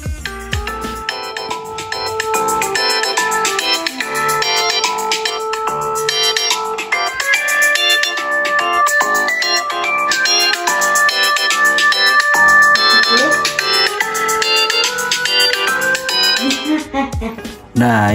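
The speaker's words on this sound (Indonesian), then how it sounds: "cobain ke speakernya dulu di nada dering" An iPhone 11 Pro ringtone plays through its built-in speakers as a loud, continuous melodic tune of bright repeating notes lasting about seventeen seconds, then it cuts off abruptly.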